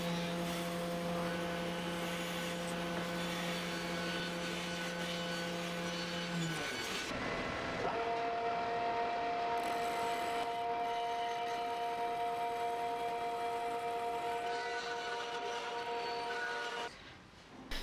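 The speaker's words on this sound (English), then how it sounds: "I just cut it out on the bandsaw" A bandsaw cuts a curve through a wooden rail for a Japanese-style hallway table, giving a steady motor hum that shifts in pitch partway through and then runs on evenly, with no talking.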